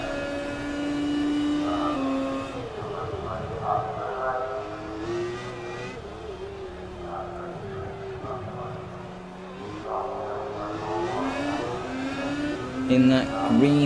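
A green HWR race car engine sweeps past during Singapore free practice, a rising and falling roar with harmonic whine under continuous commentary, other car engines droning in the background.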